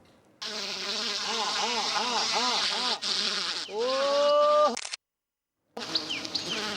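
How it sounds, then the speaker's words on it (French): Dense buzzing of many wild Asian giant honey bees in India, loud and close, with brief whining tones rising and falling, a short pause, then buzzing again. "on est vraiment sur une abeille qui est une abeille sauvage"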